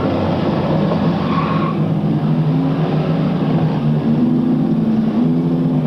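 Race cars circle a speedway under caution, a loud continuous engine drone with shifting pitch that fills the whole stretch, no voices.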